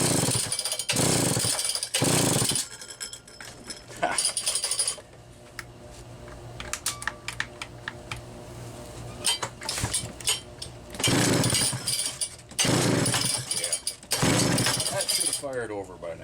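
A Homelite Super 650 chainsaw with an ignition problem is repeatedly pull-started, giving loud close bursts of recoil-starter rattle and whirring between quieter stretches of clattering handling noise, with no sustained engine running.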